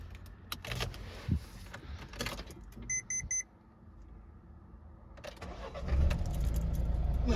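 A 2014-2015 Nissan Qashqai 1.6 dCi diesel with automatic transmission chimes with a short beeping alert, then the engine cranks and catches, settling into a loud, steady idle close by.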